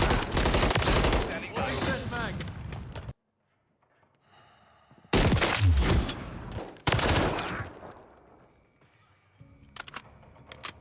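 Modern Warfare 3 gameplay gunfire comes in loud bursts of rapid shots, broken up by short silent gaps and quieter reload clicks and clatter, all close and sharp.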